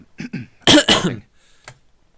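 A person clears their throat with a short harsh cough, a couple of rough rasps, then a brief quieter follow-up.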